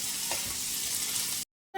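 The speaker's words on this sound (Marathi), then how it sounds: "चला तर आपण याला मिक्स करून घेऊ." Onion, tomato and carrot sizzling in a pan for Maggi noodles while being stirred, a steady close frying hiss with a spoon scrape that cuts off abruptly into silence near the end.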